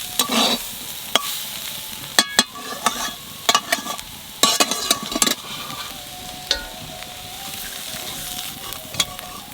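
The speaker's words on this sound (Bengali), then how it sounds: "লাউ শাক ভাজা হয়ে গেছে, এইবার নামাই নেব।" Bottle gourd leaves stir-frying in a pan, a soft steady sizzle broken by frequent sharp spatula scrapes and clatters against the pan, close and clear, with no speech.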